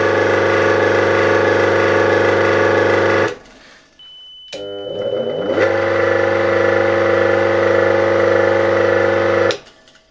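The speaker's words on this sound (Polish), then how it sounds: "W momencie, kiedy silnik zaczął się obracać" A 1964 BZFWr 120/78 electric motor, freshly rebuilt with new bearings, hums steadily, cuts out, then spins back up with a rising whine and a brief high tone before settling into a loud steady drone.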